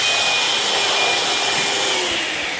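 A vacuum cleaner sucks water off a glass window as a steady, loud whooshing roar that holds even with no break.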